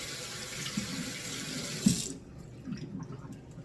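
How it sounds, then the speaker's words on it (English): Running water from a kitchen tap splashes steadily over hands being washed, then cuts off abruptly when the faucet is shut, leaving a few faint drips and quiet room sound. "Wash my hands."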